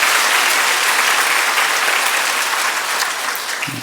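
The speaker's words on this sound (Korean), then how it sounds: "사모님께 박수 한번 하십시오" Church congregation applauding the pastor's wife during a Korean service, a dense, steady wash of many hands clapping close by, fading slightly toward the end.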